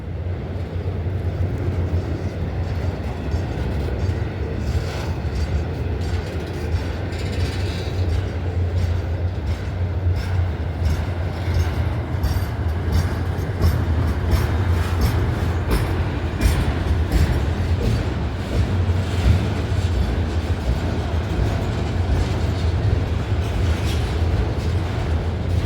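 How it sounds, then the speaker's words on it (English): A long train rolls past on the railway in Abbeville, a loud sustained low rumble with rhythmic wheel clatter and clicking over the rails, continuing steadily throughout. "he got a train in and he's getting ready to stop. So is this a 2-mile long train?"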